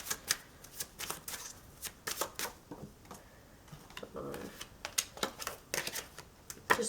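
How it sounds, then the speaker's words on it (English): Tarot and oracle cards being shuffled by hand in a quiet room, a brisk run of crisp riffling and slapping bursts that repeat unevenly throughout, close and clear with no talking. "Just doing some shuffling."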